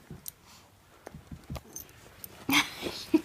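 Newly arrived puppy whimpering at home, with short, soft high yelps and whines coming in scattered bursts close by, mixed with light jingling and rustling.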